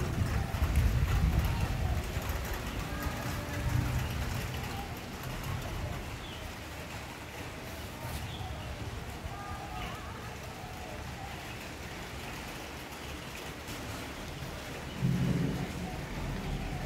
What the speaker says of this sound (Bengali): এবার একটু জোরে বৃষ্টি শুরু হয়ে গেছে